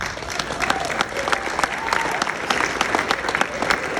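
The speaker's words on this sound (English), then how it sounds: "You guys keep clapping" A festival audience claps for a songwriter receiving an award at the Muscle Shoals Songwriter Festival, a full room of steady applause with sharp individual claps standing out.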